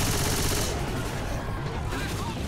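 Dense continuous gunfire in the video game Left 4 Dead 2, a loud sustained barrage of rapid shots filling the whole stretch.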